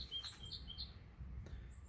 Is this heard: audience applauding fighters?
no